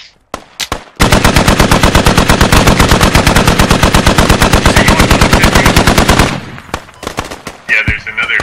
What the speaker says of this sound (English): there's another 50 shooting at us